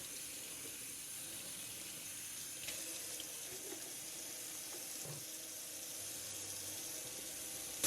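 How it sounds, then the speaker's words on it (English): Tap water runs steadily into a sink as bundles of human hair braids are washed beneath it, a constant close hiss with a few soft splashes and no voices. "I will go ahead and wash it."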